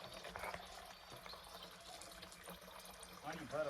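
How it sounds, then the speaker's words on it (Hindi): Water running steadily into containers, a continuous rushing trickle heard faintly under a busy background with brief voices. "अभी हम पानी भर रहे हैं"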